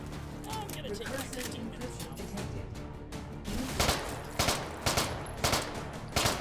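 Rapid bursts of video game gunfire crackle over a steady background, growing louder and sharper in the second half with several punchy volleys; a voice talks briefly.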